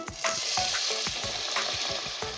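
Water goes into a hot pan of frying potato and eggplant, raising a steady close sizzle broken by a regular rhythm of spatula scrapes, and nobody talks.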